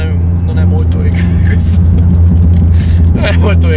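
Loud, non-legal exhaust on a car heard from inside the cabin, a deep steady engine rumble droning throughout while people talk over it.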